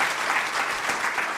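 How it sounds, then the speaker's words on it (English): A room of attendees at a Norway–Kenya peace and security forum gives a sustained round of applause, an even, full patter of many hands clapping with no voices on top. "Let's give them another round of applause"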